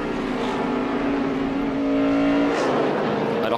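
A NASCAR Sprint Cup race car driven by Boris Said at Sonoma, its engine roaring loud and close at a sustained high pitch, then dropping briefly as the driver shifts up a gear without the clutch.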